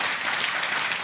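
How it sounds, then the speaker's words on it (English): An audience at a live talk event breaks into dense, hissing applause, many hands clapping at once in a steady, unbroken wash. "Can we get a round of applause"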